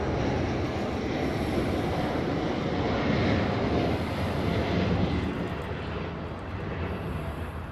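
An airliner departing LAX for Santiago roars steadily with dense broadband engine noise, loud and sustained, easing slightly toward the end, with no voices.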